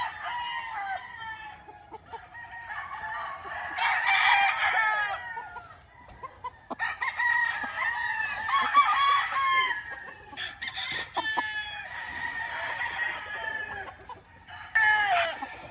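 Straight comb gray gamefowl roosters crow again and again at a gamefarm, long drawn calls from several birds overlapping near and farther off, with clucking between them.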